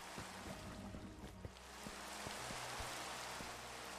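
Rain falls in the Minecraft video game as a soft, steady hiss with faint low thuds and tones, quiet and continuous, with no talk over it.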